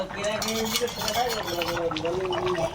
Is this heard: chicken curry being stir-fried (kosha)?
yes